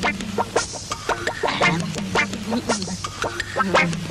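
Hens cluck and squawk in quick, overlapping bursts close by, a busy stream of poultry calls with a faint voice underneath.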